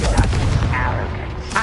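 A Confringo spell explosion goes off in the Hogwarts Legacy video game inside a goblin mine, a single heavy boom with a rumbling tail and a short burst of speech close by.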